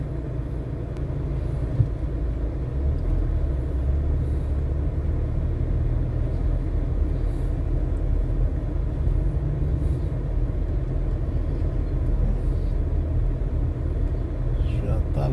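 Cars pass along a street near Ponta Negra in Natal, heard as a steady low traffic rumble that holds throughout with no distinct individual pass-bys.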